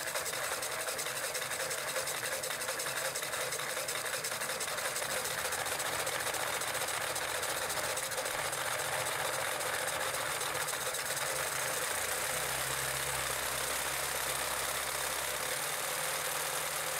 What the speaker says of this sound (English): here I have a high-speed electric motor, and we're attaching it to the first gear